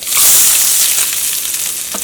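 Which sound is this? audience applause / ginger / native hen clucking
ginger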